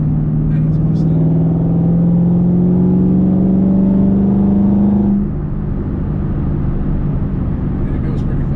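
A 2010 Ford Mustang GT engine runs loud and close, its pitch climbing steadily through a rev for about five seconds before dropping back to a steady lower drone.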